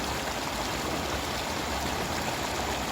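Gently flowing stream water, a little murky and tea-coloured at a rural fishing spot, rushes as a steady, dense, close wash of sound with no pauses.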